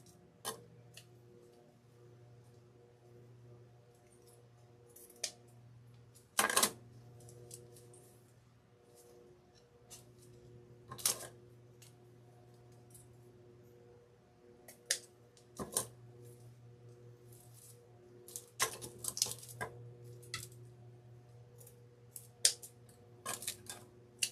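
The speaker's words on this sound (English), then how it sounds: "Let's just go a little shorter on this. Cut our other tails." Scissors snip loose thread tails on a hoop embroidery piece, a handful of sharp, isolated clicks spaced irregularly over a quiet room hum, fairly faint and with no talking.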